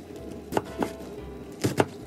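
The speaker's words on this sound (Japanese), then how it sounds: "煮込んでいる間にキャベツを切りましょう。" A knife cuts cabbage into roughly 1 cm wide pieces on a cutting board, giving four soft, dull chops in two pairs, close and moderately quiet, with no talking.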